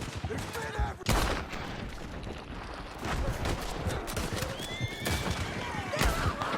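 Horses neighing and whinnying amid a chaotic Red Dead Redemption 2 battle with riders attacking, with hoofbeats, gunfire bursts and shouting voices throughout.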